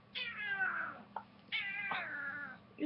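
A cat that eats ferret food gives two drawn-out, close meows separated by a short pause, clear and fairly loud against a quiet indoor background.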